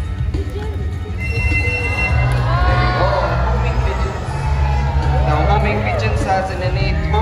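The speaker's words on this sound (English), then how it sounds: "let's give a round of applause for our Philippine serpent eagle, Freddy" Audience at a bird show in an ocean park in Cebu cheering, whooping and clapping for a Philippine serpent eagle, a loud crowd roar with children shouting and an amplified announcer's voice over the top.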